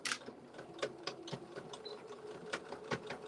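Sewing machine running quietly as it stitches through thick layers of fabric, giving a fast, faintly rattling mechanical clatter with uneven knocks throughout.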